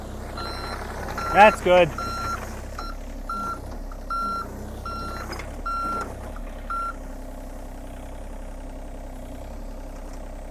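A truck's reversing alarm beeps in a regular repeating pattern at moderate distance over a low engine idle, with people talking nearby at an excavation site.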